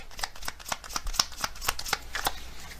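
Tarot cards riffled and drawn from a deck, a steady run of crisp papery flicks and snaps at close range with no talking.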